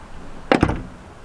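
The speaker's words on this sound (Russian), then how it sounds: "Я не могу закрыть дверь." Mercedes W203 car door closing: two quick close thuds a fraction of a second apart, near and fairly loud, with no talk over them.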